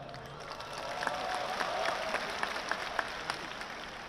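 Applause from a crowd at a Gerindra party national leadership meeting, a steady wash of clapping with scattered sharper claps, moderately loud and continuous throughout.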